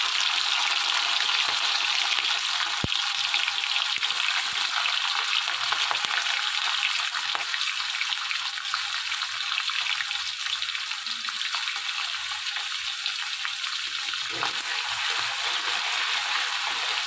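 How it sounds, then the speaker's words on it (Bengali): Paneer frying in oil with ghee, giving a bright, steady sizzle that fills the whole stretch with a dense crackle, close and loud, broken only by a few soft clinks. "এবার ভেজে নেব পনির"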